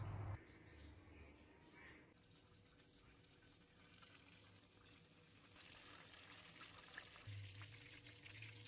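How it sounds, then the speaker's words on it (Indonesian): Chicken roulade fries in a pan over medium heat, a soft continuous sizzle and crackle at low volume that swells slightly toward the end, with no voices. "terus kita goreng sampai kecoklatan di api sedang"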